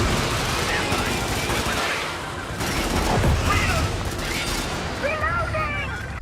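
Assault rifle gunfire in the video game Helldivers, with bursts of rapid shots and booming impacts mixed under an ongoing voice, loud and continuous through the stretch.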